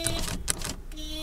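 A power window on a 2007 Honda Civic GX sedan whirs upward in a faltering, hesitant way, with short stop-and-start motor bursts close by over a steady low hum.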